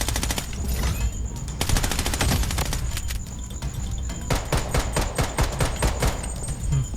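Gunfire from the shooter game Blood Strike crackles in rapid automatic bursts with a few short pauses, loud and close over a steady in-game rumble, and no one speaks.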